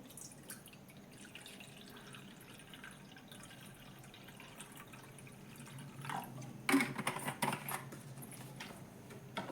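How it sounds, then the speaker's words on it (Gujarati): Quiet dripping, then a brief burst of water splashing as it is poured into an electric hot pot, fairly close. "તો પહેલાં આપણે એનામાં 2 ગ્લાસ જેટલું પાણી નાખીશું."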